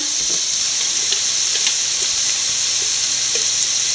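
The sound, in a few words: sautéing spices in a pan for duck roast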